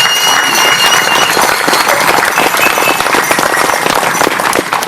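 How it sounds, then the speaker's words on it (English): Loud audience applause at a ceremony with Cowessess First Nation in Saskatchewan, a close, dense wash of clapping with sharp individual claps, continuing steadily throughout. "Let's give them a big round of applause."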